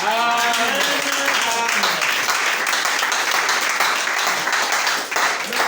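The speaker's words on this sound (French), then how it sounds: "Acclamez très fort." A church congregation claps together in a dense, sustained round of applause, with a voice audible over the start of it.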